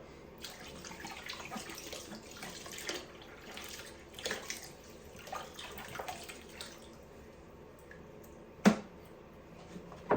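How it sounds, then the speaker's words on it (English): Hot water runs into a tub to soak loofah sponges indoors, a fairly quiet, irregular splashing and dripping with a few louder splashes and knocks near the end. "And I put them in there with hot water."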